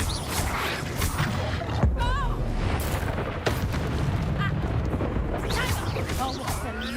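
Heavy booming blasts from a Confringo spell in a Harry Potter video game, with deep rumbling explosions layered under energetic game sound effects and music, loud and continuous throughout.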